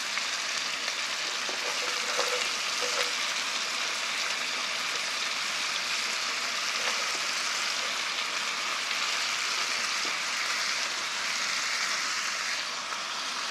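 Chopped radish goes into a pot of cooking beef for yukgaejang, and a steady, fairly quiet sizzle hisses continuously, with a few faint clinks.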